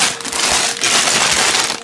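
Plastic bag holding Lego parts for the Jurassic World Indominus Rex vs. Ankylosaurus set (75941) crinkles loudly and continuously up close, a dense rustling crackle with no talking.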